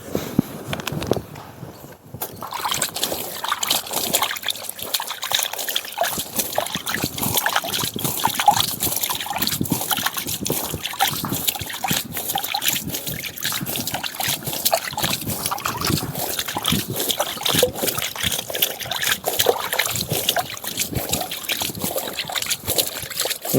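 VAM biofertilizer powder being stirred into water, giving continuous sloshing, trickling and splashing up close, loud and busy throughout with only a brief lull near the start.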